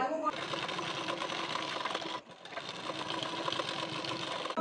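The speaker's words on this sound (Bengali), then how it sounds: "হাফ ইঞ্চের গ্যাপিং দিয়ে সেলাই দিয়ে নেবেন এই পর্যন্ত" A sewing machine runs in a continuous steady whir while stitching a half-inch seam on a size 40 bra-cut blouse, briefly pausing midway before resuming at the same even pace.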